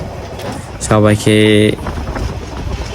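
Riding a train from Bogura to Bonarpara in Bangladesh: a constant rumbling carriage noise with a loud two-part horn blast midway, and a voice speaking over it.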